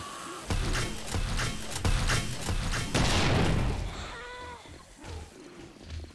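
Demolisher zombie in 7 Days to Die, a series of heavy thuds and rough growling bursts, loud and near, followed by a wavering cry and scattered quieter knocks.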